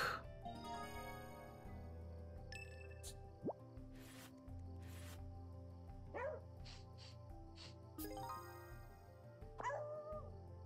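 A dog barks a few scattered times in a video game, set against a steady musical game soundtrack with occasional splashy effects.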